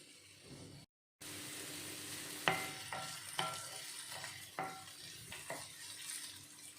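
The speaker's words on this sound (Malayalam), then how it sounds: "ഒന്ന് ചെറുതായിട്ടൊന്ന് ഫ്രൈ ആവട്ടെ." Chopped beans for a Kerala beans mezhukkupuratti fry quietly in a pan over a low flame, a soft sizzle broken by several sharp spoon scrapes and clinks against the pan.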